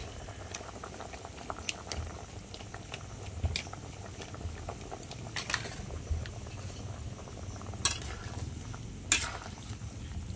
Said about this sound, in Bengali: তো দেখো আমার ঝোল ফুটে গেছে